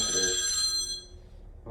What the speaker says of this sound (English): I'm waiting for a very important phone call.